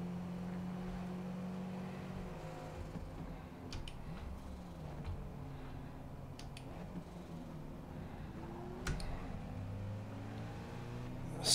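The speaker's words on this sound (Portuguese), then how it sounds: "Som do motor, o carro à direita aqui." Low engine drone with shifting pitch in the racing video game Forza Motorsport 8, rising and falling as a car revs and changes gears, with a few sharp ticks over a steady hum.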